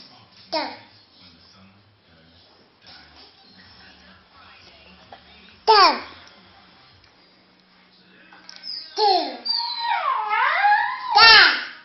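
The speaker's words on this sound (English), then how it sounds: "Oh, noisy doggy." A small dog yaps a few times at close range, mixed with a young child's babbling and squeals.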